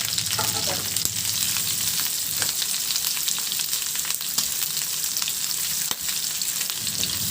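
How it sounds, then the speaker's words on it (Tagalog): Onions sautéing in a pan for a Filipino meat dish, a constant close sizzle with scattered clicks and stirring scrapes, steady and loud throughout. "Ilagay ko na rin yung sibuyas."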